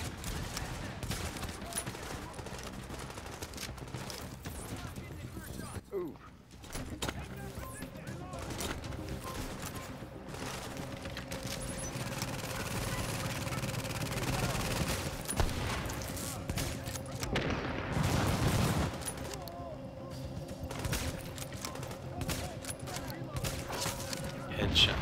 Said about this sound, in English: What the hell is he shooting? Like an M302?